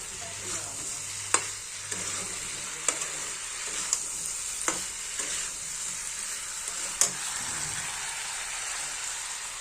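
Spice paste for a fish curry frying in a pan, a steady close sizzle with occasional sharp pops and spatters and scraping stirs throughout.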